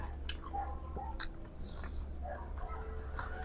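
Close, soft chewing and crunching of abalin, an exotic food, in irregular bites over a low steady background hum, with a faint murmur.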